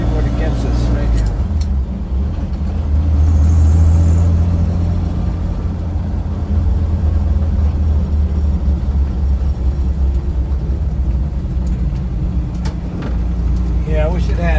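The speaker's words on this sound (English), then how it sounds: "this barrels along on the highway. We're just going to putt through here and see what it gets us right here" A 1966 Land Rover 109 with a six-cylinder engine drives along a road, a steady loud low rumble and road roar from inside the cab throughout, with a person talking over it.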